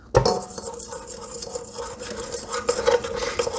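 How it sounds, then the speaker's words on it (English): A spoon stirs and scrapes berry pie filling with lemon around a bowl, making a continuous close wet scraping with soft clinks against the sides. "I'm just going to give that a quick spoon around."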